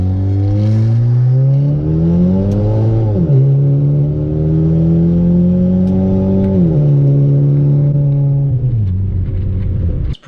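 A turbocharged Honda R18 engine revs hard in first gear, a loud, steady drone whose pitch climbs in long sweeps, briefly drops between pulls and climbs again, with a sharp cutoff at the end and no talking.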